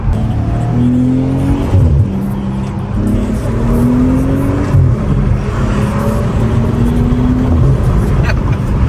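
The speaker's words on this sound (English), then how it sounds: "I hear that turbo, bro." A rebuilt BMW 540i with a turbo engine accelerates hard on the road, a loud, close engine drone climbing through several gear pulls, with someone talking over it.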